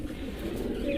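Pigeons cooing in a fancy pigeon enclosure, a soft low murmuring coo heard faintly and close, with no voices over it.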